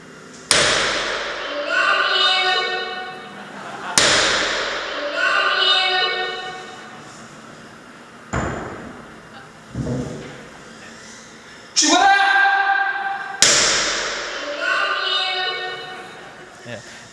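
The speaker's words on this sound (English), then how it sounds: "This is a real construction hammer." A heavy construction hammer, about 200 kilograms, strikes metal several times, each a sharp clang ringing out and slowly decaying, spaced a few seconds apart.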